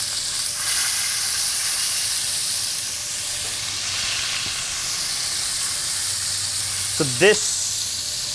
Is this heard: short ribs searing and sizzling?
yes